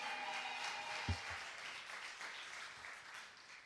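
Clapping from a crowd at an arts-complex publication celebration honors the DJ, a continuous wash of applause with one sharper nearby clap standing out early, no voices over it.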